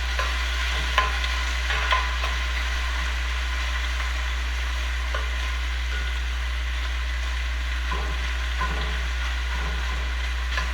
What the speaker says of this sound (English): give it one more stir, I guess, before I add the peppers